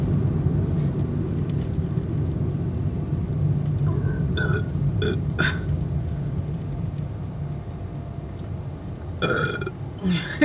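A man lets out a long, deep, rumbling burp after eating KFC, close and loud, with a few smacking mouth sounds afterward.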